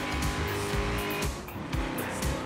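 A car engine in Forza Horizon 3 revs hard and loud in fifth gear, rising and falling with gear changes and tire noise.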